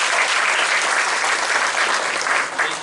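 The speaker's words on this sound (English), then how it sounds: "All right, let's give everyone a round of applause." Loud, dense applause from a seminar audience, a continuous wash of clapping that holds steady and eases slightly near the end.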